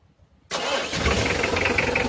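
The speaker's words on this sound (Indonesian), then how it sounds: "sudah terdengar suara mesin diesel yang bertenaga" After a brief quiet moment, a Mitsubishi L300 diesel engine with a freshly adjusted injection pump cranks and fires up abruptly, settling into a loud, rough, rumbling idle.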